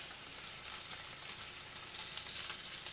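Sausage frying in a pan with an even, fairly quiet crackling sizzle that holds steady throughout, without any talk or clatter.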